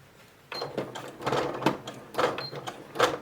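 Sewing machine stitching a vinyl and fabric pouch in several short, close bursts of rapid mechanical clatter, with brief pauses between runs and no talking.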